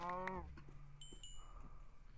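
Cows in a Minecraft-style video game: one short, drawn-out moo at the start, then faint scattered game blips and chimes over a low background.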